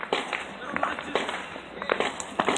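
New Year fireworks go off in a foggy street, a rapid string of sharp cracks and pops at varying distances, with a person talking over them.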